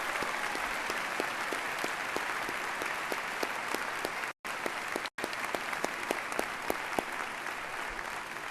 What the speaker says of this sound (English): Please join me in a round of applause to acknowledge their service.